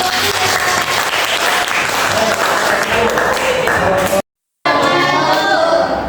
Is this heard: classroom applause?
yes